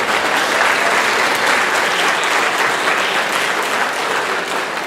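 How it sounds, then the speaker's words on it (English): Loud sustained applause fills a band banquet award ceremony, dense clapping from a close crowd, steady throughout with no talk. "Still give a round of applause."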